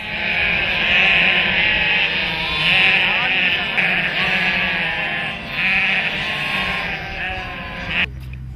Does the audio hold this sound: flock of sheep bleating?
yes